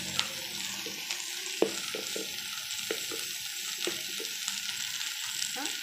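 Cluster bean sabzi frying in a pan, a continuous bright sizzle with light rhythmic stirring scrapes and occasional spoon taps, close and even, with no one talking.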